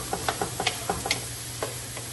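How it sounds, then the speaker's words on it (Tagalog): Chicken sisig being stirred in a pan, a run of close scraping and clacking taps at an uneven pace over a faint steady sizzle, with no one talking. "Kailangan natin siyang haluin."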